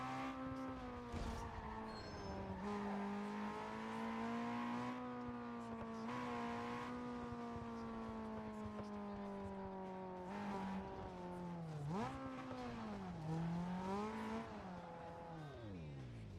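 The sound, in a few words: car engine revving in a driving video game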